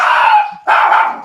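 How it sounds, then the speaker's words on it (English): Several dogs barking in excited, near-continuous bursts, loud and close, with a brief pause midway before the barking resumes. "I had dogs going crazy"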